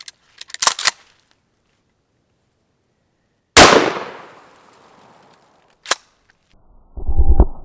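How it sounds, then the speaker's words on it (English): A shotgun fires a single blast of number 3 buckshot into meat and bone, a loud sharp report with a decaying tail, alone and close, framed by a few metallic clicks and handling noises before and after. "let's try some number 3 buckshot"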